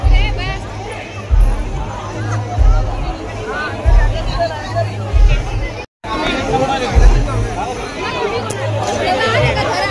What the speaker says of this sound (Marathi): तुफान गर्दी.